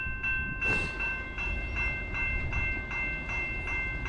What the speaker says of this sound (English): Sunday morning train action